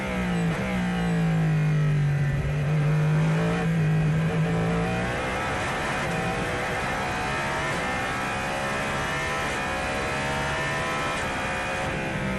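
A race car engine in the Project Motor Racing sim revs high and hard, a loud, close, sustained whine rising and falling in pitch through gear changes for over twelve seconds, with no talking.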